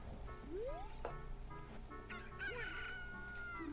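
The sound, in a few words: chicken crowing in the video game Zelda: Ocarina of Time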